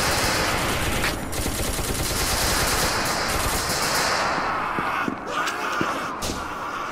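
Rapid automatic gunfire in the video game SCP: Secret Laboratory, a loud, sustained hail of shots through most of the stretch, thinning toward the end into a few separate cracks, with shouting players mixed in.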